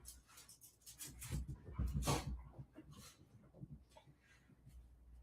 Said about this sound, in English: The dogs are angry.